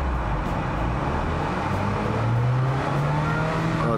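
A SAAB engine with about 54,000 km on it runs with its turbo, a steady loud mechanical drone and whine that lifts slightly in pitch midway, with no voices.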